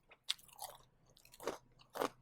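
Crunchy, seasoned fried chicken tenders from a food truck bitten and chewed close to the mic: a sharp crisp bite, then several crackling chews in uneven bursts, quiet and without speech.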